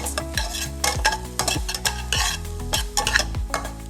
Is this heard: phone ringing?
no